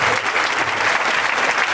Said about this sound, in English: can we give a very nice round of applause for Miss Ursula and Mr. Walker